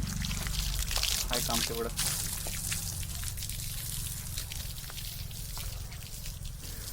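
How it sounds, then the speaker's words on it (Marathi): Water is poured to fill household containers, giving a steady splashing trickle with a few brief gurgling bursts near the start. Soft talk runs underneath the pouring. "हे पाणी भरून घ्यायचं आहे आता परत सगळ्याला"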